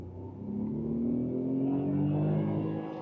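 Tata Tiago hatchback with a naturally aspirated engine pulling away in first gear, a steady near engine drone whose pitch rises smoothly as it accelerates, with no talk over it.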